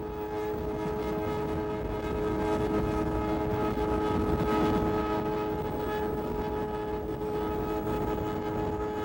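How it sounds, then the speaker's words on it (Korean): An Indian cross-continental long-distance train runs on through the night, a steady continuous rumble of wheels and carriage with droning tonal hum, sustained and even throughout with no voices. "열차는 쉬지 않고 달려 아침을 맞이하고"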